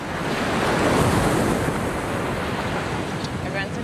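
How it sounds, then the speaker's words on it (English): A big ocean wave surging and breaking at sea, a loud sustained rush that swells and then eases, with wind buffeting the microphone. "big wave."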